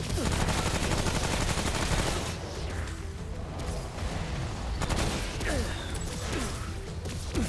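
Sustained gunfire in the Remnant: From The Ashes shooter game: dense, rapid bursts and overlapping shots fill the scene almost continuously, loud and close, with brief dips between volleys.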